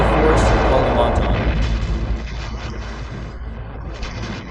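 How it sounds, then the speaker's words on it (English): Heavy explosions and artillery fire rumble through a jungle battle in the forests of Kalimantan, a loud, sustained low roar that slowly fades, with a narrator speaking over it. "Confrontation and explosions shook the forests of Kalimantan."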